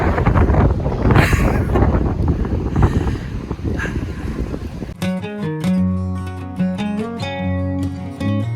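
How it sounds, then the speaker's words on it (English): Strong gusting wind buffets the microphone outdoors at the Sydney Opera House, a loud, rough rush for about five seconds before it gives way to music. "Gosh, it's so windy."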